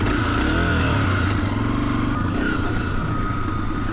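A Honda CRF300F off-road motorcycle being ridden around a 3.5-mile dirt course, its single-cylinder engine droning steadily with a throaty rasp, staying close and loud with slight shifts in pitch as the throttle varies.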